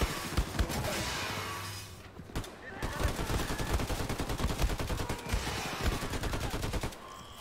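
The vaporizer gun in Wolfenstein 2 fires in rapid, loud repeated bursts, a brief pause breaking the stream before a long run of fast, evenly spaced shots resumes.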